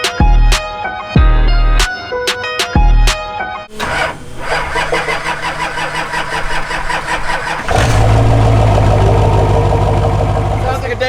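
A 1,500 lb-ft diesel-swapped Camaro with a turbo cranks with a few heavy thumps, then catches and settles into a loud, rough idle that steps up to a higher, steady rumble partway through, heard up close.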